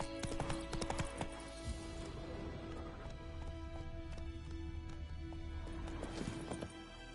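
Roach, Geralt's horse in The Witcher 3, gallops with a steady clip-clop of hooves and a brief whinny, layered over game music and ambient noise.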